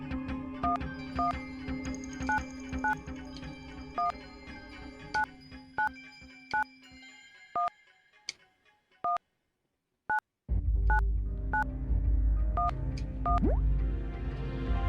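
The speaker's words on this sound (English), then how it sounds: "I do like the funny phone sound" Playful electronic phone sound from the Suikoden video game: a run of short, evenly spaced tonal beeps like dialing tones, clear and close, broken by a pause before a louder burst of game noise returns.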